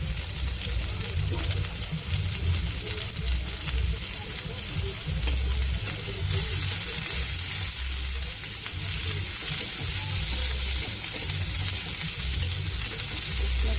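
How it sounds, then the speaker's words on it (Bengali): Onions frying in a pan as the filling for aloo paratha is prepared, giving a steady, even sizzle that runs unbroken from start to finish with a low background rumble. "পেঁয়াজটা একটু লাল লাল ভাজা হবে"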